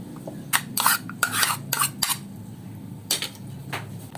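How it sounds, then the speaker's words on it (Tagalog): Cooked elbow macaroni being mixed with an all-purpose mayo dressing, a spoon or utensil scraping and clinking against the bowl in quick bursts of wet stirring, close and alone with no talking. "Ihalo natin dito sa pinalambot na elbow macaroni."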